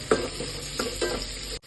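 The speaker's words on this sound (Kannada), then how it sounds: "ಈರುಳ್ಳಿ ಫ್ರೈ ಆಗಿದೆ." Chopped onions salted and frying in a pan, a steady close sizzle with a few soft stirring scrapes over less than two seconds, no talking.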